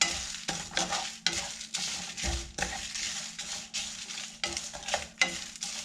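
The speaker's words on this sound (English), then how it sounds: "Now I'm adding 2 teaspoons of cumin seed and 1 teaspoon of fenugreek seed" Cumin and fenugreek seeds sizzle and crackle in hot oil while being stirred, a dense continuous hiss with rhythmic scraping strokes and a low steady hum beneath.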